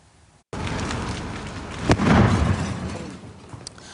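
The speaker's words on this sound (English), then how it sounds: "What you just heard was an explosion inside a mobile home that went up in flames" An explosion inside a burning mobile home: a sudden loud blast cuts in, then swells into a deep, rumbling roar that slowly fades.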